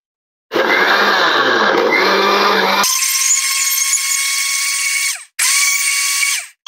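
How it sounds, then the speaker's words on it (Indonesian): Electric blender grinding kersen and papaya leaves with water into chicken feed, a loud continuous whir that changes pitch partway, briefly stops, restarts and cuts off. "Oke, sudah selesai blender."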